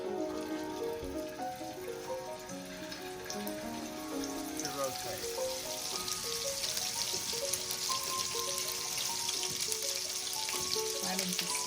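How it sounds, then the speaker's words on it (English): Meatballs fry in a saucepan with a steady, close sizzle that crackles and spits for the whole stretch, with no talking over it. "we're going to be frying up the meatballs in the saucepan"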